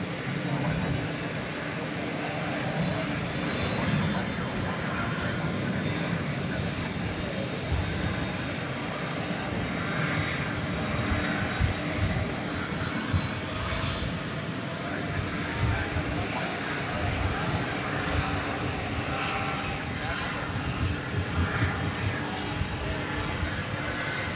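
An aircraft engine drones at DFW Airport at night, a steady, fairly faint rumble that carries on throughout, with light background noise.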